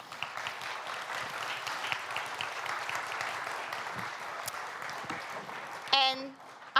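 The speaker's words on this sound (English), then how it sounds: "So let's give them a round of applause," An audience at a digital innovation conference applauds to welcome panelists on stage, with sustained, even clapping that fades near the end, followed by a brief voice over the tail.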